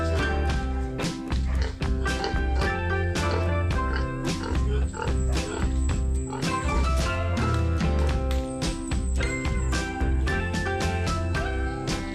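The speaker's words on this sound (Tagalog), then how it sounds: "Daan po tayo dito sa mga alagang baboy." Farm pigs kept in pens grunt and oink in a dense, continuous chorus up close, with scattered taps and shuffling movement among them and no talking.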